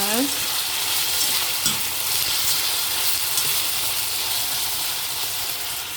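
Ingredients for mixed bean soup sautéing in a pan, with a loud, continuous sizzle and hiss and an occasional stirring scrape, close up and steady.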